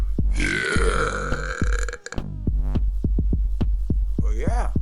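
A long, loud, droning belch breaks off and then gives way to a rapid series of croaking, pulsing burps, ending in a warbling gurgle.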